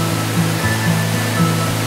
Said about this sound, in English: Looking up at the famous Xiaowulai waterfall, you can easily feel the magnificence of so much water falling from heaven.